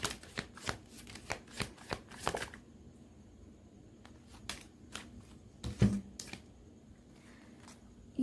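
Tarot cards being shuffled and pulled, a series of quick riffling bursts close up with quiet gaps between them and no talk.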